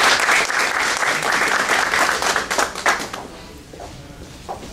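Steady applause rises for a court official at a judiciary tribune event, dense clapping for about three seconds that then thins to scattered claps.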